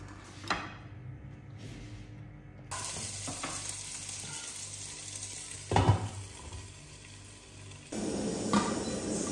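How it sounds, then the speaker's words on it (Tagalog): Mixed vegetables with plenty of fresh tomatoes and shrimp paste fry in oil in a pan, giving a close, steady sizzle that swells louder as ingredients are added and stirred, with occasional utensil clinks. "Someone is cooking guys"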